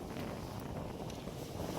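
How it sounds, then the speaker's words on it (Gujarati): Strong wind gusting across the microphone at an outdoor Ashadhi Bij fair at Parab Dham in Gujarat, a steady loud rumble filling the whole clip with no talk over it. "અત્યારે પવન પણ બહુ છે"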